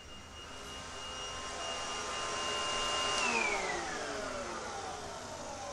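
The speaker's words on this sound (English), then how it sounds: "I know the vacuum is really loud and obnoxious," A vacuum cleaner whines steadily nearby, its high-pitched motor tone dropping in pitch partway through as the airflow changes, continuous and fairly loud.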